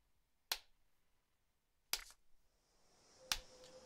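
Three sharp, isolated claps from the video game Fallout 76, spaced slowly apart, about a second and a half between each, in an otherwise quiet setting.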